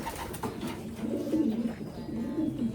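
A racing pigeon coos in soft, repeated low throaty phrases, close by and fairly quiet, with faint background noise and no talking.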